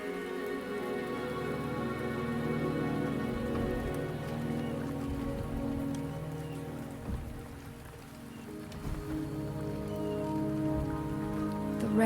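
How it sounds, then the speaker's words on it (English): Rain falls steadily in Wuthering Waves, a constant soft patter on surfaces with scattered louder drops under a faint tonal background, continuing for several seconds. "rain is subsiding, and the sky will soon clear."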